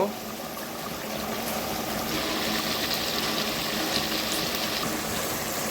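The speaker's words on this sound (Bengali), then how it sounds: "তো এখন আমি আরো একটু পানি দিয়ে দিব।" Hot water poured into a pot of simmering pigeon curry in a home kitchen: a steady, close wash of splashing and hissing that runs unbroken throughout.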